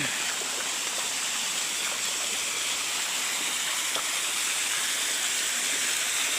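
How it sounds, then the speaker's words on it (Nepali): Water pours down a small waterfall in a constant rushing, splashing hiss. The sound is steady and fairly close, with no voices over it. "यहाँ चाहिँ छागा आइरहेछ, मजाले सरर बगिरहेछ।"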